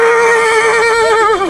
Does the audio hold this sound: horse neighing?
yes